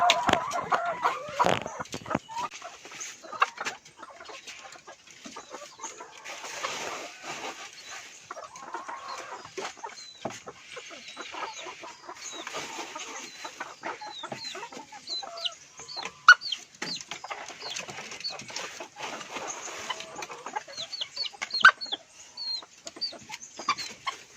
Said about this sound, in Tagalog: yung mga manok na malalaki po yung palong, papakainin ko po para lumabas po yung ulo nila